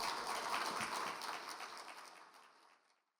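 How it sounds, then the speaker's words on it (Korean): Warm applause from a revival-meeting congregation welcoming Pastor Kwon Jun of Seattle Brothers Church to the pulpit, a steady wash of clapping that gradually fades away to silence, fairly quiet and with no voices. "우리 따뜻한 박수로 우리 맞이하겠습니다."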